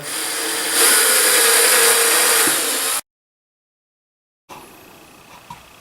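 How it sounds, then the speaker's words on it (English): A small power drill whines steadily for a few seconds while drilling a tiny pilot hole for small screws, rising slightly in pitch, then stops abruptly, leaving a short silence and faint room noise. "I'll just go drill a little tiny pilot hole here."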